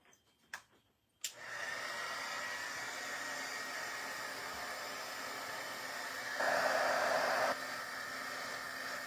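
A torch heating silver and gold, starting with a couple of sharp clicks as it ignites, then a steady roaring hiss that swells louder for about a second before settling back, no talk.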